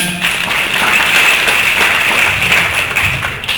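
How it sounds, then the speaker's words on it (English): A steady round of audience applause fills a hall at a student entrepreneur summit as a student is welcomed, dense and continuous clapping at even loudness for the whole stretch without speech. "Please welcome with a big clap."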